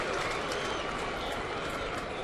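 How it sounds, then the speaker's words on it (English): A baseball stadium crowd at a Twins–Yankees game gives a mock cheer, a broad, sustained roar of voices and scattered clapping that holds steady for a couple of seconds. "a mock cheer from the crowd."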